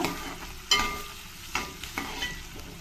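Fenugreek pulao ingredients frying in butter, with a soft steady sizzle punctuated by three or four distinct spatula scrapes as the pan is stirred, heard up close and without speech.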